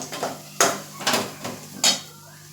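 Spiced potato filling for aloo paratha being mixed by hand in a bowl, with a few sharp clinks and taps of utensil against the bowl amid soft stirring and rustling, close up.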